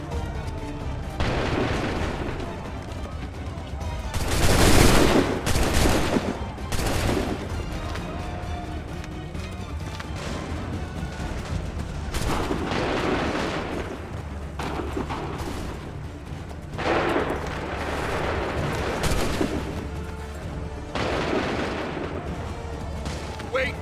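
Musket volleys crack out in Assassin's Creed 3, several loud, booming bursts spread over time with lingering rumble between them, mixed with shouting voices and battle noise.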